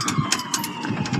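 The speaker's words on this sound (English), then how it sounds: "You hear there's some sirens in the background." Emergency sirens wail faintly in the distance during a Christmas live drive, a thin wavering tone rising and falling behind steady background noise.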